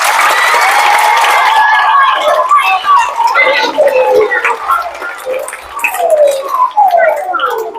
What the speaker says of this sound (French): Le deuxième de la classe, j'attends vos applaudissements.